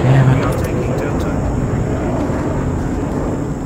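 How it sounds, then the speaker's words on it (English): A propeller recon plane drones overhead in Rising Storm 2 Vietnam, a steady loud engine hum filling the battlefield soundscape and holding even throughout. "Recon plane is in the air."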